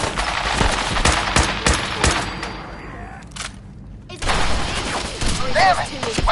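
Bursts of rapid automatic gunfire and single shots in the video game Fallout 4, loud and close, broken by a brief lull before another volley erupts.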